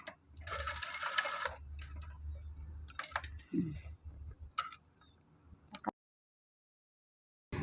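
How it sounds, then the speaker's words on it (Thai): A sewing machine stitches over a skirt hem and then backstitches, with a loud, dense run of stitching early on followed by fainter, intermittent mechanical ticks and clicks before it falls silent. "เราก็เย็บทับไปเลยนะคะ เสร็จแล้วเย็บย้ำ"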